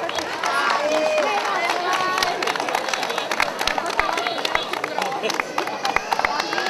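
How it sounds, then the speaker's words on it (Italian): Festival crowd at the Sagra della Trota awards in Valbrona, 2011, clapping amid general hubbub, the applause thinning into scattered individual claps and talk toward the end. "Bravo, un bel applauso."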